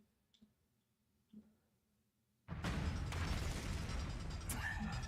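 A loud, sustained explosion from an action game erupts after a few quiet clicks and thumps, holding as a dense roaring blast for several seconds.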